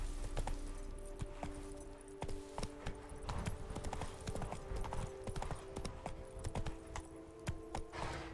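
Galloping hoof clip-clop from the horse Roach in the video game The Witcher 3: Blood and Wine, a steady rapid drumming of hooves with jangling tack over a constant game soundtrack bed, close and continuous.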